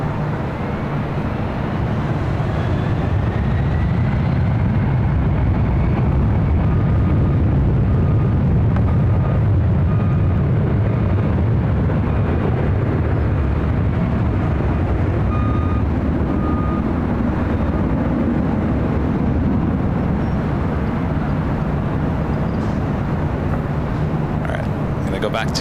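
Delta airliner rolling for takeoff on runway 24 left at LAX, a loud, steady broadband jet roar that holds strong throughout, with a faint rising whine and radio tower chatter underneath.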